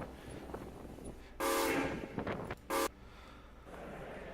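A loud steam engine horn sounds in two blasts, a long one then a short one, over a steady outdoor rumble.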